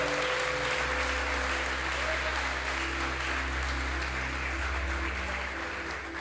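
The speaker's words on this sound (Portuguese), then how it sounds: "eu queria que nós celebrássemos ao Senhor com um aplauso pela vida dele nessa manhã" A church congregation at a Sunday-morning service gives sustained applause for a pastor, a continuous even roar of clapping over a low steady hum of music or room tone, without pause throughout.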